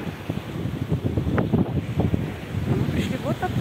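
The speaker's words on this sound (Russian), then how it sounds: "Здесь такой ветер, что я думаю, звука вообще никакого не будет." Strong seaside wind roars and buffets the microphone in uneven gusts, with the wash of open water and faint voices in the background.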